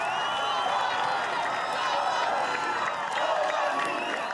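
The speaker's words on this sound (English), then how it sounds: "Crowd getting right behind him." Crowd at an Australian Ninja Warrior grand final, a steady, dense roar of cheering and shouting that holds loud and unbroken throughout.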